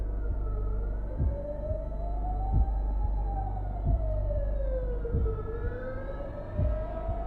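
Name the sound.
police car sirens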